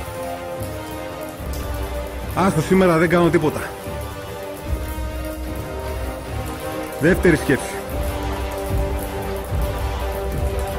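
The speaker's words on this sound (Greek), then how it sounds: "λίγη βροχή." Steady light rain falling outdoors on a cold, gloomy day, a constant soft patter heard throughout beneath someone speaking Greek in two short bursts.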